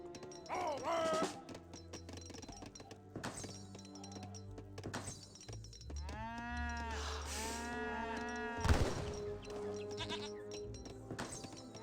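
Sacred cows mooing in Age of Empires 3, several drawn-out low moos overlapping amid game effects and bleating livestock, moderately loud with brief gaps.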